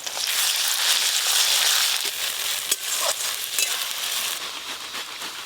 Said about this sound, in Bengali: পেঁয়াজের ওপরে আদা রসুন বাটা দিয়ে আর একটু সব কিছু ভালো করে ভাজবো